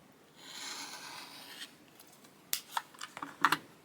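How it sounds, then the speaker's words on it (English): Scissors trim the extra fabric off a half-square triangle quilt block: a soft rustle of fabric, then a quick cluster of sharp, close snips near the end. "You want to trim off the extra."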